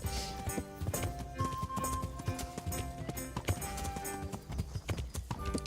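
Horse hooves clip-clop in a steady, close trotting rhythm in the video game Kingdom Come: Deliverance, running throughout with no voice over them.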